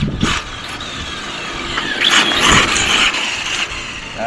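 Rlaarlo XTS-S10 RC rally car driving on cool-weather tires with poor grip, a high electric motor whine rising and falling with brief surges, fairly close.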